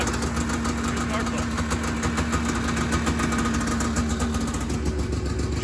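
A vintage Yamaha snowmobile engine with a mild cam, freshly fitted with new spark plugs, runs at a steady idle, a continuous throbbing drone close by with a faint knock in its rhythm.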